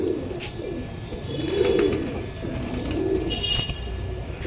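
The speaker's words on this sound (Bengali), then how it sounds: "খুব অ্যাক্টিভ পায়রাগুলো, দেখুন ভিউয়ার্স" Low, soft cooing from pigeons being handled in a loft rises and falls in a few rounded phrases, close and moderately quiet against a constant background hiss.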